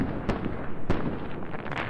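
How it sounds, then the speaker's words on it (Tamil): Christmas firecrackers burst inside the video game ARK Survival Evolved: two sharp, loud pops land close together and are followed by steady crackling fizz. "பட்டாசு மட்டும் வெடிக்கிறாங்க பாருங்க"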